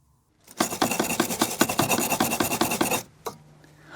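A wire brush scrubs rusty shock absorber bolts on a Vauxhall Corsa D, a close, loud, rapid rasping in quick back-and-forth strokes for about two and a half seconds, then a single short scrape.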